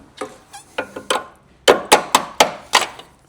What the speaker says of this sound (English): So let's go get the trusty hammer.